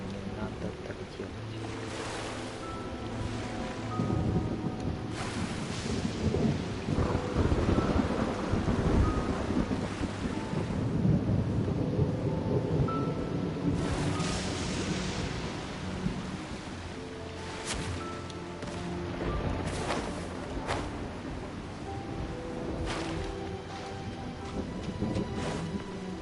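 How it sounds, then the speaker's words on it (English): Thunder rumbles and lightning cracks boom in the Genshin Impact video game, heavy rolling storm noise mixed with rain and game sounds, loud and continuous over about half a minute. "По мне уже молния бьет, прикольно."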